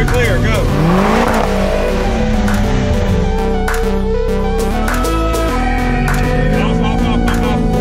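A car drifts nonstop through a long endurance run, its engine revving hard and rising and falling while tires squeal continuously close by, with loud crowd noise and voices mixed in.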